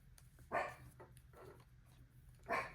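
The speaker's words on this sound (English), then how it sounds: "That's my dog." A pet dog gives three short barks indoors beside a table where a hat is being hand-knit on double-pointed needles, each bark fairly near and separated by quiet gaps.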